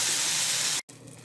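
Eggplant fries in hot oil with turmeric and chili, a loud, dense sizzle that cuts off abruptly for an instant, then resumes more quietly.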